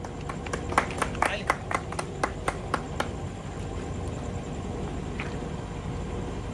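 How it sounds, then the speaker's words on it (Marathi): Several people clapping to welcome the designer of a band vehicle, a loose burst of about a dozen handclaps over the first few seconds, then fading into a steady background hum with voices. "टाळ्या वाजार भाऊ"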